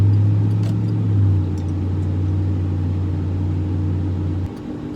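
A Lincoln Town Car cruises on a highway, heard from inside as a loud, steady low engine drone with road rumble that drops and thins briefly near the end.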